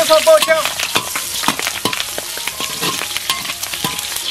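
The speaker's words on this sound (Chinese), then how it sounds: "锅里倒油，下葱姜蒜爆香" Scallion, ginger and garlic stir-fry in hot oil in a wok for a rustic donkey hotpot, giving a loud, continuous, close sizzle broken up by repeated scraping strokes of a spatula.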